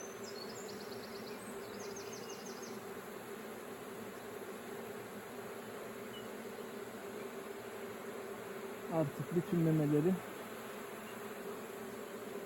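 Honey bees at an open beehive during queen introduction, a steady low buzzing hum that runs throughout, while someone speaks Turkish briefly near the end over the drone.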